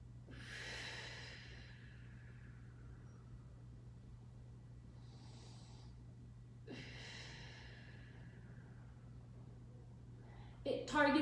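Deep breaths drawn in and out during a mobility workout, two long airy breath sounds a few seconds apart, close and fairly quiet over a steady low hum, with a brief louder rustle at the very end.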